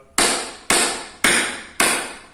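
Cold, rigid rubber tubing being struck: four loud, sharp, bright knocks at an even, steady pace, close up, each ringing briefly before the next, with no talk.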